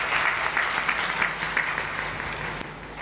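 An audience at a Ram Katha religious discourse claps for a tabla player, giving a steady wash of applause from many hands throughout, with no voices over it.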